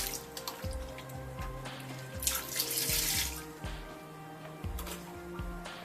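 Water sloshes and drips close by as a human hair wig is dipped repeatedly into a filled sink, with soft splashing and trickling in an irregular rhythm.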